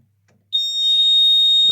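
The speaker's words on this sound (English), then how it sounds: "I'll do lamp tests so you can hear the buzzer." A Kentec Syncro addressable fire alarm panel buzzer sounding during a lamp test: after a brief quiet moment it cuts in as a loud, steady, piercing electronic tone that holds unbroken to the end.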